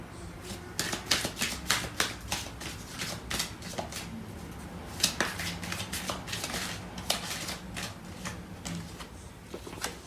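Tarot cards shuffled by hand in a steady run of crisp, papery riffles and flicks, fairly close and rhythmic, with a faint voice murmuring underneath.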